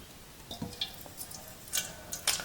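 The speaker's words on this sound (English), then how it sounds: "I'm gonna pour a little water on the outer" Water is poured into the outer basket of a 2017 Cooks Essentials air fryer while cooking meatloaf, heard as faint, scattered trickles and drips.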